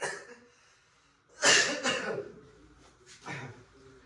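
A single harsh cough bursts out, followed by a rougher second cough and a smaller one, close and loud in an otherwise quiet room.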